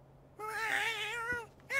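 A single drawn-out cat meow from a video game, clear and close, with a soft low hum behind it and a brief start of another sound at the end.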